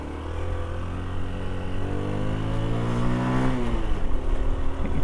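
A Honda Cub C90 motorcycle pulls away in first gear on a quiet Cotswolds lane, its small engine droning close and steady while the pitch rises as it gathers speed, then dips briefly and climbs again.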